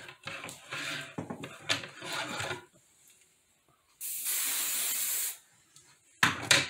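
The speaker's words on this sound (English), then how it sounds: "give it a spray with basting adhesive." Basting adhesive sprays from an aerosol can onto fabric stabilizer during machine embroidery prep, a steady loud hiss lasting about a second alone, with handling clatter before and after.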